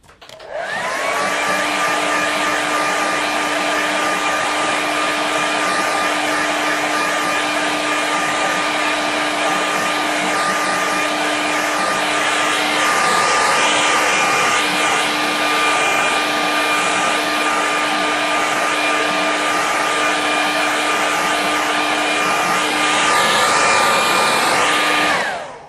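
A hair dryer blows over a watercolour painting with a loud, steady whirring roar and a high whine, running continuously for about 25 seconds and cutting off at the end, with no voices.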